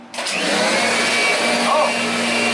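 A Kirby Avalir 2 upright vacuum cleaner switches on and runs with a steady, loud motor whine and airflow roar, with people talking nearby.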